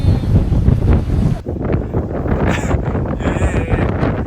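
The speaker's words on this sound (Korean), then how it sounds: "바람 때문에 눈을 못 떠." Strong wind buffets an outdoor microphone on a trip to Jeju Island, a loud, steady roar of gusts that holds for the whole stretch and eases only briefly partway through.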